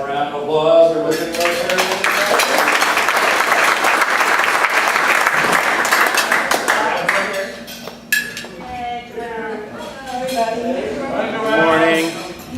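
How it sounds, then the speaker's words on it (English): Audience applause fills a meeting room for several seconds, dense and steady before tapering off, after which people begin talking. "Let's have a round of applause."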